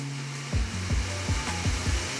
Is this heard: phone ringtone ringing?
no